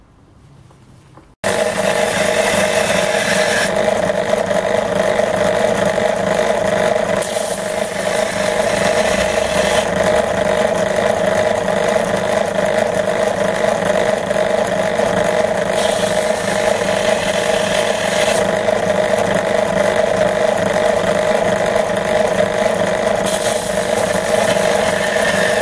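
A drill bit, such as a broken center drill or drill stub, is ground on a cheap bench grinding stone. A steady motor whir runs loud and continuous for about 24 seconds after an abrupt start, with no talking.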